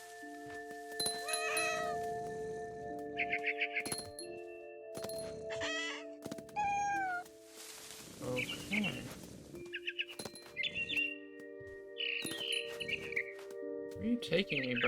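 Game cat meows and caterwauls repeatedly in short, varied cries, mixed with clucking fowl-like calls and other game sounds, with a voice speaking at times.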